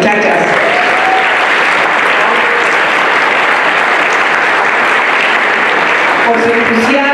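Sustained, loud audience applause fills the room for a university student gender group being introduced, steady and dense throughout with a few voices faintly mixed in.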